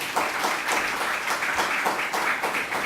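A crowd at a Haitian Creole talk event applauds from mid-distance. The clapping is dense and continuous with a rhythmic pulse running through it, and there is no speech over it.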